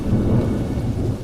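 Thunder rumbles loudly as rain begins falling on a cold day over farmland, a deep, continuous roll with a steady wash of rain and no voices.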